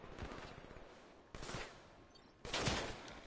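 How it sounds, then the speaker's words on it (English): Bursts of gunfire in a shooter video game, three dense volleys of rapid shots at a moderate level, each rising sharply and trailing off, with no talking over them. "I'm shooting everybody and they're not dying"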